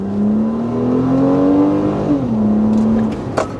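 A Honda Accord V6 engine accelerates while driving, a close steady hum that climbs smoothly in pitch, dips briefly at a gear change and then carries on, with a faint click near the end.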